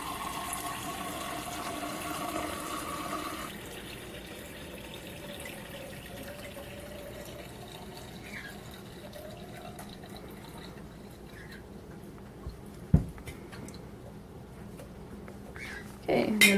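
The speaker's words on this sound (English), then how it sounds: "you just take it and just carefully pour" Fresh goat milk poured carefully from a milking pail into a jar indoors: a soft, steady liquid trickle over quiet room noise, ending with a brief clunk.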